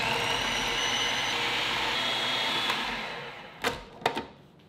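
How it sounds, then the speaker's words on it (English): A blender purees avocado hummus with lemon juice, cumin and salt until smooth. Its steady, loud motor whir runs for about three seconds and then stops, followed by a few short knocks. "then we'll blend it up until it's nice and smooth"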